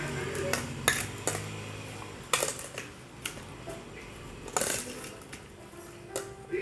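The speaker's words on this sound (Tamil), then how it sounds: "நல்லா இந்த மாதிரி மிக்ஸ் பண்ணி விட்டுருவோம்" Spoon clinking and scraping against a bowl while curd and chopped onion pachadi is stirred, a run of light irregular metallic taps and knocks, close and fairly quiet, with no talking.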